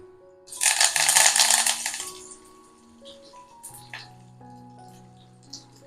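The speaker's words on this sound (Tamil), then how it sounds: "கடுகு தாளிச்சுக்கலாம்." Mustard seeds splutter and crackle in hot sesame oil in a clay pot, a dense, loud burst of popping for about a second and a half before fading into scattered light crackles with ringing tones beneath.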